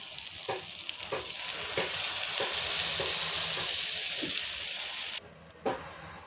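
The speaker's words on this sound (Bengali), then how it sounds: "এবার আমি এখানে দিয়ে দেবো নারকেলের দুধ।" Coconut milk poured over a cooked spice base in oil for an egg masala sets off a loud, swelling hiss that holds for several seconds, then cuts off abruptly, followed by a single clink.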